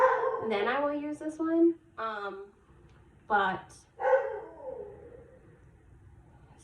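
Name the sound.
dog barking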